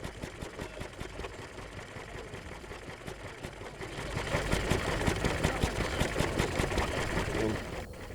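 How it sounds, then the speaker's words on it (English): A coal-fired steam engine runs with a steady rhythmic chugging that grows louder and busier midway as water is injected into its boiler. Someone speaks over it. "Just injecting some water into the boiler"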